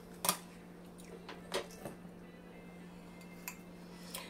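Two eggs being stirred into cornbread dressing with chicken: a few faint, scattered clinks of a utensil against the dish, sharp isolated taps separated by quiet pauses.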